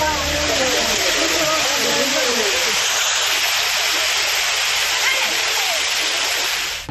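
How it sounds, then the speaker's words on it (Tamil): Courtallam waterfall in Tenkasi district roars as a steady, dense wash of falling water that fills the whole stretch. Faint voices blend in near the start. "அருவிகளில் கொட்டும் மிதமான தண்ணீரில் நீண்ட நேரம் நீராடி மகிழ்ந்தனர்."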